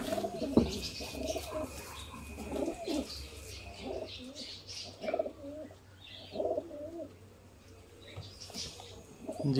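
Domestic pigeons at a Sialkot pigeon loft give repeated soft, low cooing calls in steady bursts, with a few faint chirps and light background noise.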